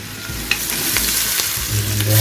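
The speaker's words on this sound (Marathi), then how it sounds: "कच्चा मसाला जरा फ्राय झाला पाहिजे चांगला" Loud, close sizzling of raw ground spice paste frying in a pan, with stirring scrapes and a few sharp clacks of a utensil.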